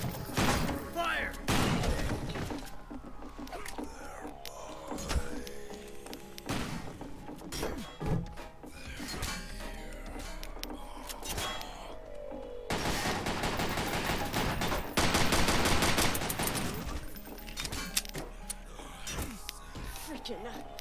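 Rapid gunfire in the zombie shooter game Zombie Panic! Source, bursts of overlapping shots and thuds in loud volleys, with a player talking over the shooting.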